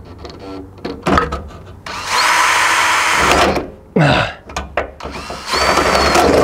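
A power drill drills into metal at an oblong hole while changing a Land Rover 110 fuel tank, running in long sustained bursts with short pauses between them, loud and close, with a brief voice heard near the start.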